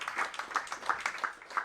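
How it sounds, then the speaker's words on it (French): An audience at a French ecology round-table launch event applauds its four speakers, with steady, moderately close clapping that swells in loose rhythmic bursts and no talk over it. "on peut applaudir nos 4 intervenants"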